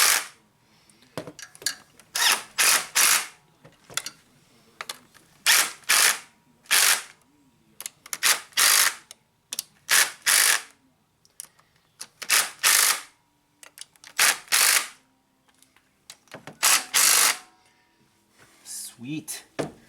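Power driver running valve cover bolts down through rubber grommets, a series of short, loud ratcheting buzzes in uneven bursts with pauses between, close by, while someone talks in the gaps.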